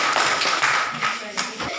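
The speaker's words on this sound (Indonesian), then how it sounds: "Iya, tepuk tangan lagi." Classmates in a remote village school clap again, a brief burst of loud, uneven clapping, with a voice speaking over it.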